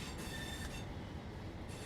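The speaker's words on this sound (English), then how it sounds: "our train, our pacer, goes into the Blackpool distance" Pacer train departing in the Train Sim World 6 game on the Blackpool branches, a steady low rumble with faint wheel squeal, muffled and fairly quiet.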